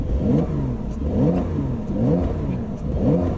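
A 2019 Porsche 911 992 Carrera 4S engine in Sport Plus mode revs repeatedly in short rising bursts, about four pulls in a row, close and fairly loud with a mechanical whir between them.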